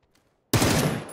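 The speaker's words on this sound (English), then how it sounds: "I headshot him." Gunfire in a video game: after near silence, a sudden loud burst of rapid shots hits at full volume and keeps going steadily to the end.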